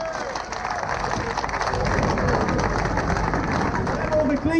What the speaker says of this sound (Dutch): Geef hem nogmaals een oververdiend applaus.